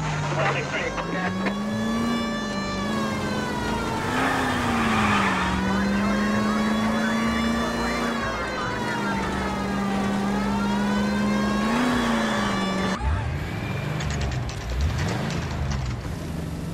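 Engines roar and rev steadily as cars street race in L.A. Noire, the pitch climbing and dipping through gear changes, with a siren-like wail and speech layered over the loud driving.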